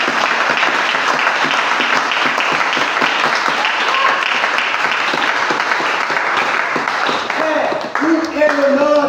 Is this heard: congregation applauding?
yes